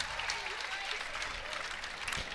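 Tournament crowd at a professional men's doubles pickleball championship bursts into loud, sustained applause and cheering after a winning shot, a dense wash of clapping with no voices standing out.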